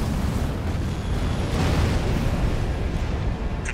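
A destroyed Juggernaut boss machine explodes in the Armored Core video game, a sustained heavy rumbling blast with crackling debris rolling on for several seconds, loud and unbroken, with no voices.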